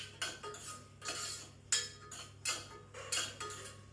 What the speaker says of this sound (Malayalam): ആൻഡ് സ്വീറ്റ് കോൺ, ദാൽ ഇട്ടിട്ട് നന്നായിട്ട് മിക്സ് ചെയ്തെടുക്കാം.